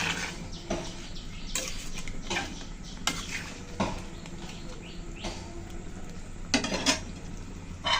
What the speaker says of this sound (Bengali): সব কিছু দিয়ে ভালো করে একটু মিশিয়ে নিচ্ছি।